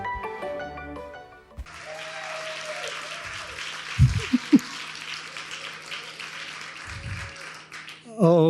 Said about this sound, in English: Oh, you applaud now.